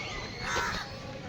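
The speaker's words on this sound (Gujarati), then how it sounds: "કાગડા" Crows caw in harsh, overlapping calls at Kamathi Bagh zoo in Vadodara, a brief busy burst at moderate distance amid outdoor ambience.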